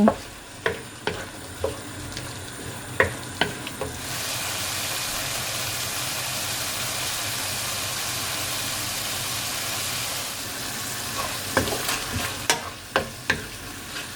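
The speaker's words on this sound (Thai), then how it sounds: "เดี๋ยวจะผัดให้พริกมันมีความสลดนิดนึง" Green chilies and chicken breast stir-fry in a hot pan, with a continuous loud sizzle and sharp spatula scrapes and clicks that come in bursts at the start and end.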